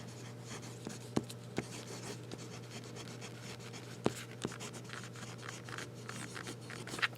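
A juicy, smooth fountain pen nib laying down Yamabuda ink makes quiet, close scratching strokes across paper, with occasional small taps as the pen lifts and lands, in an otherwise still room.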